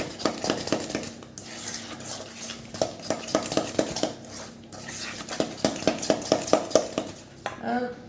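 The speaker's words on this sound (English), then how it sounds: "Give it a good mix." Bakewell cake batter is beaten by hand in a bowl, giving a close series of rhythmic knocks and scrapes of a utensil against the bowl with short pauses, and no talk.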